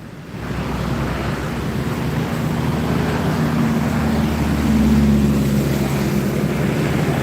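A gallon water truck passes on a highway, its rushing roar rising steadily from the start and holding loud and close, with a low engine drone underneath and a swell near the middle.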